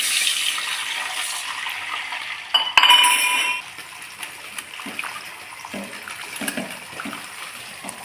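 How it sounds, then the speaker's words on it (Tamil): A brief clink of metal, then water splashing and trickling into a cooking pan for an elephant foot yam stir-fry, tapering into quieter pouring and small kitchen sounds. "இப்போ எல்லாம் தண்ணி ஊற்றிக்கலாம்."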